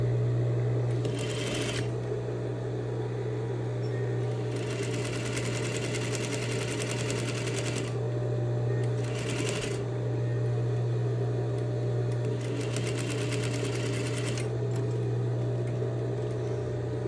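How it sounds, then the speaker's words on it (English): A sewing machine stitches and back stitches a seam, running in several close, rapid whirring bursts separated by brief pauses over a steady motor hum. "So I'm stitching and back stitching at the beginning and end."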